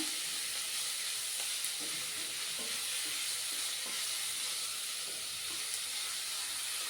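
Sliced onions sautéing in a pan for a prawn roast, a loud, continuous hissing sizzle with faint scattered stirring clicks underneath.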